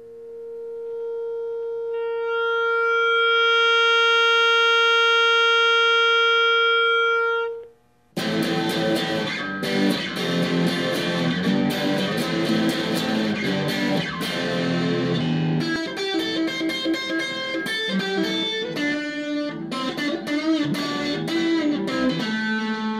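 A pure electronic tone glides upward alone, then a heavily distorted electric guitar, overdriven through an amplifier speaker pushed past its limits, plays loud gritty chords and riffs for the rest of the stretch.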